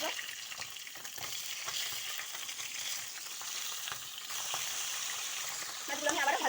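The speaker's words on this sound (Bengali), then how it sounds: "মাছগুলো আমি আবারও ভালোভাবে ভেজে নিব।" Pabda fish fry in hot oil in a pan, giving a continuous, fairly soft crackling sizzle with scattered small pops and light scraping, louder near the end.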